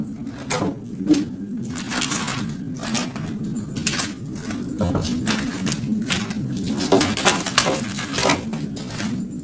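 A deck of tarot cards is split into piles by hand, giving crisp repeated shuffling snaps and slaps, close and fairly loud, in an irregular run over a faint low room hum.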